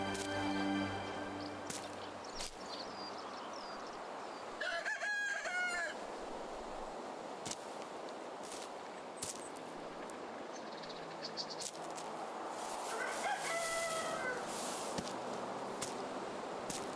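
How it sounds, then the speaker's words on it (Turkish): A rooster crows in the video game Medieval Dynasty, two drawn-out calls about eight seconds apart over steady background ambience and clucking. "Ha horoz."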